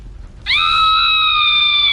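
A sudden, loud, sustained scream in the Skyrim video game cuts in after a quiet start and holds steady at a high pitch until the end, with no talk over it.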